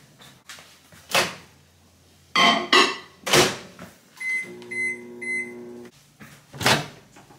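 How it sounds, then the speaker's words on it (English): Several knocks and clunks of a microwave oven door opening and closing, then the oven's steady humming drone with tonal beeps, followed by more clunks. "it's ready for the microwave"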